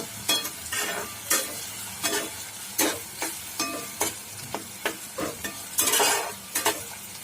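Onions sizzle in a hot pan, browning for chicken masala, while a spoon scrapes and stirs in repeated strokes, the frying hiss steady underneath.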